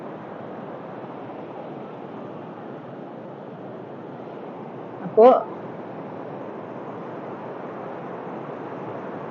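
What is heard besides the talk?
sea waves flooding the driving beach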